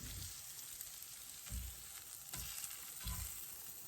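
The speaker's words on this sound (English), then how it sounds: "we're going to cook the onions in the same skillet that we cook the shrimp in" Onions frying in a skillet previously used to cook shrimp for Cajun-style shrimp and grits, a steady close sizzle with a few soft low thumps of stirring at regular intervals, no talk.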